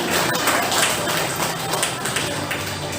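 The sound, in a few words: audience clapping for Sushil at a yoga certification ceremony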